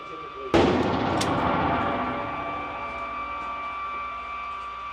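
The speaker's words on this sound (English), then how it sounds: "I'm shooting to the left." One sharp, loud gunshot from a firearm at a shooting range, followed by a long rolling echo that fades slowly; a second faint crack comes shortly after.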